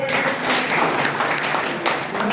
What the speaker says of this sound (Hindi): एक बार तो जोरदार तालियां